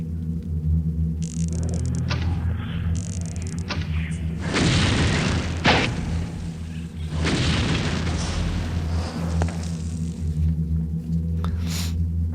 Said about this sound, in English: That was basically an artillery assault.